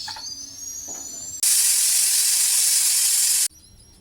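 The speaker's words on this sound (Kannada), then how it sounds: "ಈಗ ಇದನ್ನು ಲಿಡ್ ಕ್ಲೋಸ್ ಮಾಡಿ ಒಂದು ವಿಷಲ್ ಹೊಡೆಸ್ಕೊಳ್ಳೋಣ." A pressure cooker cooking matar pulao lets out a long, loud, forceful hiss of escaping steam lasting about two seconds, cutting off abruptly. Quieter whistling tones come before it and after it.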